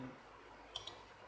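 Two quick, faint mouse clicks close together, choosing a character in a Godot 2D platformer template, set against a quiet background hum.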